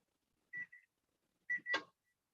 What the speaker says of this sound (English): we're going to beep any moment